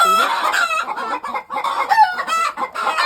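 Several hens cluck and call close by in a farmyard, among them broody hens set to sit on a clutch of eggs in a tire nest, with a rooster-like crow mixed into the continuous clucking.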